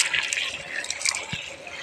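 Water is poured onto soil mixed with manure, giving a continuous splashing, gurgling flow that stays fairly close and steady throughout.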